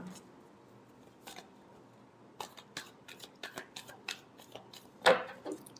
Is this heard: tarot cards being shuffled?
yes